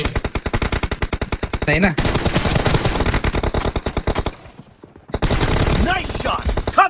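Rapid automatic gunfire in a shooter video game rattles in dense bursts, loud and near, with a brief lull before firing resumes, while a player speaks briefly over it.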